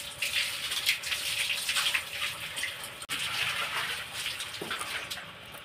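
Jackfruit pieces are rinsed under a running kitchen tap, a steady close splash of flowing water with small shifting gurgles throughout.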